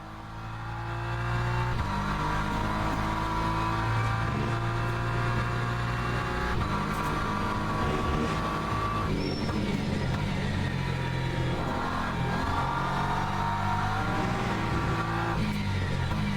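Race car engine in Le Mans Ultimate, a damaged car limping home on three tyres, holding a continuous loud drone with shifting pitch as it runs down the back straight, no voices.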